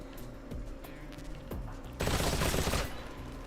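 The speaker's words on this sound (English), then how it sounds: "Just firing off random bursts of gunfire to see if there's anybody nearby" Automatic gunfire in the video game Metal Gear Solid Delta: rapid bursts of shots, with a few distinct cracks and then a sustained loud fusillade, heard alone without talk.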